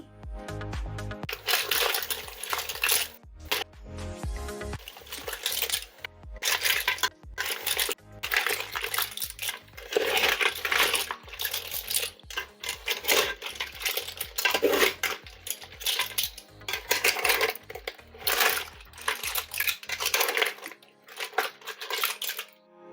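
Clam shells rattling and clattering as clams are stirred in a pan for clams sukka, a busy run of sharp, close clinks and scrapes that goes on almost nonstop until it falls silent near the end.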